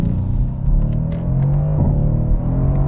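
The engine of a Mercedes-AMG C63S convertible with a Brabus 600-horsepower kit accelerates with a loud, deep rumbling drone that holds steady and close throughout, with no talking.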